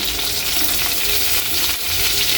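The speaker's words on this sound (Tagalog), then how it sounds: "Kaili, pwede na ilagay na natin ang ating bawang." Garlic sautés in a pan for a pork liver dish, giving a loud, close, steady hiss of frying.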